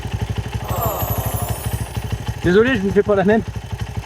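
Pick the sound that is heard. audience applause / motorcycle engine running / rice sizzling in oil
motorcycle engine running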